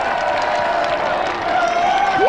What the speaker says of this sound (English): the crowd salutes Ricky O'Flaherty's first hat-trick of the season